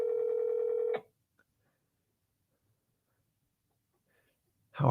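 Telephone dialing tones on a live call to cash buyers and agents, a steady sustained tone for about a second, then near silence before another tone starts at the end.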